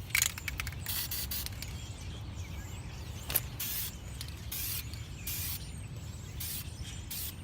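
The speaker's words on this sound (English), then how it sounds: "I would recommend to spray just a little bit of adhesion promoter, not a lot." Adhesion promoter spritzed from an aerosol can onto brake calipers in short hissing bursts, some rapid and some longer, close and quiet over a low background hum.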